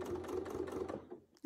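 A sewing machine tacking stitches during free-motion quilting, a quick run of rapid rhythmic needle strokes close by that stops after about a second, followed by a short click.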